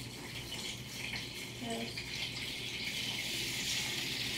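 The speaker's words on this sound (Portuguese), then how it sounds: "Nós vamos colocar a água agora" Water poured into a container of Orbeez gel beads at home, a continuous rushing gush like a filling tub, with a child and an adult talking over it.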